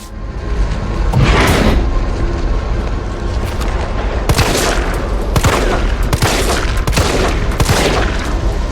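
Gunshots in Resident Evil 3 Remake, a series of loud, sharp shots fired at an irregular pace over a heavy, rumbling game background, with no talk.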